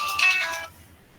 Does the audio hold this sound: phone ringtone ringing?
yes